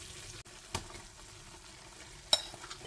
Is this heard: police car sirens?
no